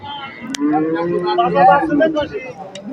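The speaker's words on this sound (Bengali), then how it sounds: "দেখুন গরুটা দেশি জাতের বেশ সুন্দর" A small-to-medium native-breed young cow lows at a cattle market, giving a rising and falling bellow through the middle of the moment, with nearby people talking around it.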